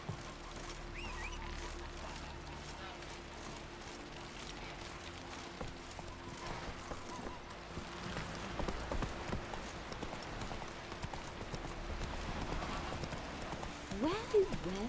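Hooves of Roach, a horse in the video game The Witcher 3, clip-clopping in a steady rhythm under rain-like ambience, with a voice speaking over the game sound.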